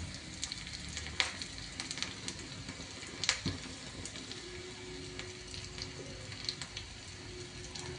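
Green chillies fry in hot oil for a dhokla tempering, making a quiet, continuous sizzle with scattered sharp crackles and pops, heard up close with no voices.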